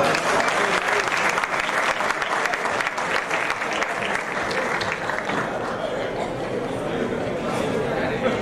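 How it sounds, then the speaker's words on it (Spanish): Strong, sustained applause from an audience at a radio announcers' awards ceremony, a dense wash of clapping held at a steady level for several seconds with some crowd chatter underneath. "Lo despedimos con un fuerte aplauso."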